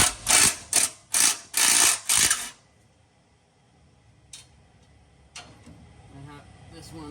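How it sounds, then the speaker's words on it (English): A ratchet wrench clicks loose an exhaust flange bolt during a catback exhaust install on a 2022 Subaru BRZ / Toyota GR86, sounding as five loud, rapid ratcheting bursts up close in the first few seconds, followed by quiet workshop shuffling and faint clinks. "I'm gonna come over here to my flange, and then I'm gonna break this bolt loose"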